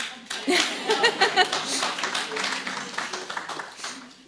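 A conference audience claps through a brain injury session, a scattered, uneven round of hands that swells early and carries on steadily, with a voice speaking over it.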